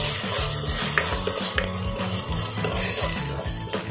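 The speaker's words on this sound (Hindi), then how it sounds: "इसको अच्छे से भून लेंगे" Tomato, ginger, garlic and green chilli being sautéed in a pan with onions, a continuous sizzle broken by rhythmic scraping stirs of a spoon against the pan, close and alone.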